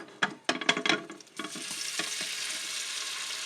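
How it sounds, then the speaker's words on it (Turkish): Close sizzling and frying hiss of meatballs being sautéed in a hot pot, opening with a few clattering stirs, then a steady crackling sizzle. "Bunları da bir soteliyoruz yine köftelerimizi."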